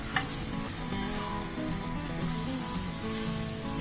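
A spoon stirs flour halva in a hot pan, giving a soft continuous scraping and gentle sizzle at even, moderate loudness with no talk.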